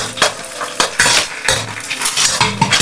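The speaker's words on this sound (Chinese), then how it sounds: "用鍋鏟簡單分割一下" A spatula clatters and scrapes against a pan, cutting a fried egg into pieces, giving a series of close, sharp metallic taps with a light sizzle between them.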